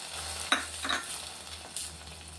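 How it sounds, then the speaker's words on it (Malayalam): Mustard seed tempering poured into a pot of sambar, giving a couple of short, close sizzling bursts with light stirring and soft clinks, no voices. "സാമ്പാറിലേക്ക് കടുക് താളിച്ചത് ഒഴിച്ചു കൊടുക്കാം"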